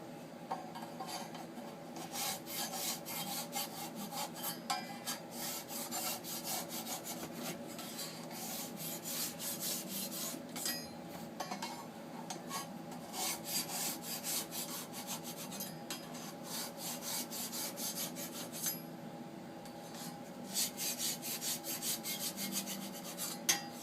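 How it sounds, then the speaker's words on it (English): A file rasps steadily against the inside of each flute of an N60 Plus shaving tool, working around in turn; continuous close scraping strokes with slight pauses, and nobody talks. "just carefully go around, sharpening each flute in turn, and it's just a shaving tool, so we just sharpen the inside only"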